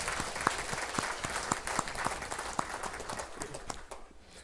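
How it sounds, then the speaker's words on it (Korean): A church congregation claps to welcome visiting guests during a sermon, a steady mid-level patter of many hands throughout with a few sharper nearby claps, fading slightly at the end. "여러분 박수로 환영해 주시기 바랍니다."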